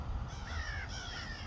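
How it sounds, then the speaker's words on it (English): Crows caw outdoors on a slightly cloudy, breezy day, a few harsh calls sounding faint and some distance off over a steady background hiss. "The birds are talking."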